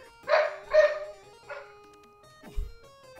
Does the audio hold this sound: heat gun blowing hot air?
no